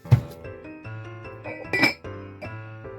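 A thick vintage Imperial glass dish made by Lenox is handled, giving a sharp clink near the start and another bright ring of glass a moment later over a quiet room hum.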